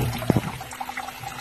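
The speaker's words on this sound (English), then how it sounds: "You see water coming in around the drain line there." Water trickles and splashes into a drain basin in a crawl space with standing water, seeping in around the drain line. There is one brief splashy burst, then a soft, uneven dribbling close by.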